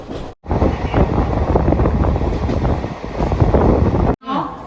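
Loud, steady rumbling roar of a moving express train through forest with rushing wind buffeting the microphone, broken by two brief dropouts, close and continuous.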